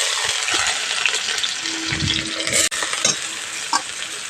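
Chopped onion frying in hot mustard oil in a pan: a close, steady crackling sizzle, with a few scrapes of stirring and light clinks over it.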